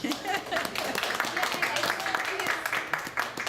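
Scattered hand clapping from a small group at a singing master class, a steady patter of claps mixed with murmuring voices and talk throughout.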